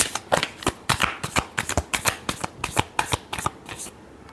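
Tarot cards shuffled by hand in a rapid, close run of crisp flutters and snaps that continue for about four seconds and then stop.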